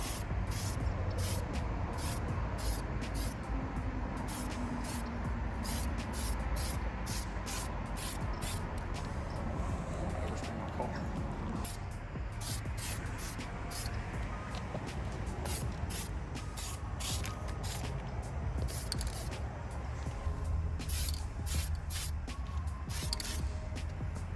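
Aerosol paint is sprayed onto the brake calipers of a Nissan 370Z while they are still mounted on the car, in a long run of short, sharp hissing bursts repeating close to the microphone.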